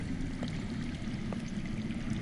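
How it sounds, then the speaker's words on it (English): Underground water flows steadily in a Game of Thrones video game on PS4, a continuous rushing, pouring wash that holds an even level throughout, with no voices over it. "That's water. I hear water. From underground."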